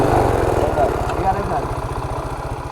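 A motorcycle engine idles during a riding lesson, its fast, even low putter steady and close throughout. Voices talk over it.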